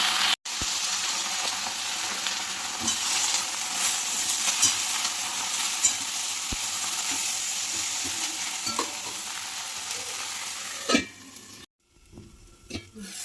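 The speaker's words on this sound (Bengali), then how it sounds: "কড়াইয়ে আর একটু সর্ষের তেল দিয়ে দেবো, দিয়ে কালো জিরে ফোড়ন দেবো" Steady, loud sizzling of nigella seeds tempering in hot mustard oil in a wok, with occasional stirring clinks, then a brief pause and a few softer crackles near the end.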